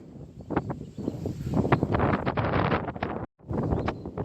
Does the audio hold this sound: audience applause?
no